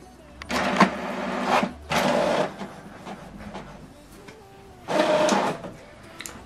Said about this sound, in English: Document is printing.